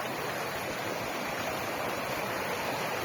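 A babbling mountain stream beside the road to Lake Synevyr rushes in a steady, even broadband wash, continuous and fairly close throughout, with no voices over it.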